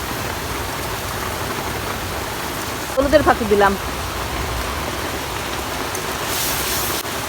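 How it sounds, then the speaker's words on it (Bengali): Steady rain pours during a storm in a village, a continuous even hiss filling the whole stretch while a voice speaks briefly in the middle. "বৃষ্টিতে কিছু দেখা যাইতেছে না, অন্ধকার হয়ে আইছে, চারদিক দিয়ে ভিজা যাইতেছে"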